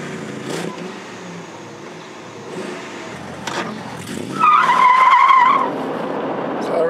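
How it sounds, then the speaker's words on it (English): A Dodge truck's 5.7 engine revs up in a brief rising burst partway through, loud and close, over a steady idle and background noise. "Let's give it a little rev."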